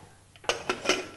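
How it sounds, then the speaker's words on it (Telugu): A metal lid is set onto a pressure cooker in a kitchen, giving three quick clinks and clatters of metal on metal, close and fairly loud. "మూత పెట్టేసి"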